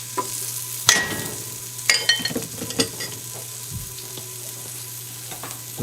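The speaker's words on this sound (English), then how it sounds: "So turn the heat on to high and just sear the ginger and the garlic." Ginger and garlic sear in hot oil over high heat for a one-pot Chinese beef brisket with daikon, a soft sizzle broken by sharp scraping and clattering stirs, with no talk.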